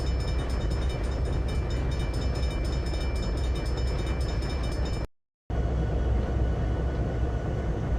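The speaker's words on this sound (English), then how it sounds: "I just thought it was cool that this other train was coming through." A train rolls past in the Trainz 2022 simulator, a loud steady rumble and rattle of wagons, close and continuous, broken by a brief cut of silence before the same heavy rolling noise resumes.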